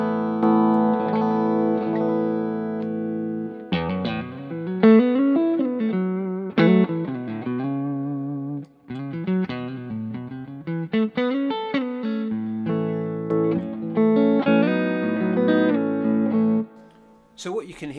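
Electric guitar played through an EQ Lift boost pedal set for a large mid-range boost, feeding a Fryette Power Station; sustained chords and melodic runs ring out loud and saturated with short pauses between phrases.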